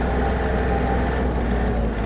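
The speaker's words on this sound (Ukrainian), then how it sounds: "Зверніть увагу на вихлоп трактора." Steady, loud exhaust rumble with a constant low drone from a Yanmar US-324 mini tractor running without pause.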